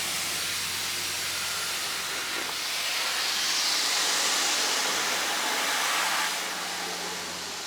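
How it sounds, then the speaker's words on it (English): High-pressure rinse spraying a car in a Wesumat soft-wash car wash, a steady loud hiss of water jets that swells in the middle and continues without talk. "Pressure seems a little weak for a high pressure rinse"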